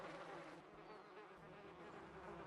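Insect wings buzz steadily at close range, a dense continuous drone with slight wavering and no voices.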